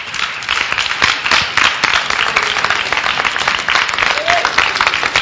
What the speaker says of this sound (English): give the Lord a clap of hands